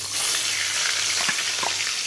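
Fish pieces hit smoking-hot oil in a wok, a loud close sizzle and crackle with small bursts of spitting throughout.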